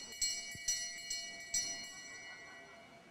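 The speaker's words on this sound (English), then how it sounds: "So Mark will come around and get the bell" A bell rung for the final lap at a masters track cycling race in New Zealand strikes four times in a fairly steady rhythm, each ring bright and ringing on briefly before fading, heard from a moderate distance over arena ambience.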